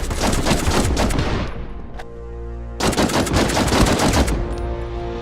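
Carbines fire loud rapid bursts in a war video game, two long volleys of automatic gunfire separated by a brief ringing pause.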